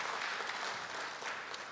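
An audience at a Korea University anniversary ceremony claps steadily throughout in a brief, dense burst of applause.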